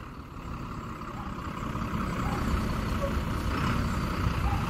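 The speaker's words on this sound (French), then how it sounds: "Ah ouais, les gros véhicules." Large vehicles maneuver nearby at a nomad family gathering, giving a steady low engine rumble that swells slightly and holds, moderately close, with no clear voices.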